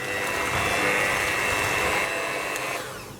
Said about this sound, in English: So all we're going to do now is just on a low speed, mix this all together.